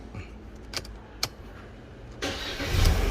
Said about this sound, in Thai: ทดสอบสตาร์ทนะครับ เสียบกุญแจนะครับ